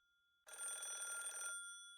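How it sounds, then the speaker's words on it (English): A telephone rings steadily for about a second in the Higurashi When They Cry visual novel, a bright electronic trill standing alone against near silence before fading out. "The phone continued to ring."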